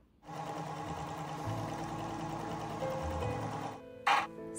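A sewing machine runs close by in one continuous, steady whirring stretch as it stitches a jacket seam, then stops, followed by a brief clack.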